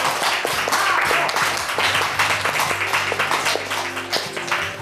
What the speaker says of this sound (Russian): Ну а пока аплодисменты команде Арины Вишневской.